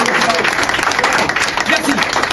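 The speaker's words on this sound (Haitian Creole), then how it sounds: "moi je demande un gros applaudissement pour papa" An audience applauds Dessalines, founder of the Haitian nation, at a commemorative gathering. Steady, dense clapping runs through the whole moment and mixes with voices.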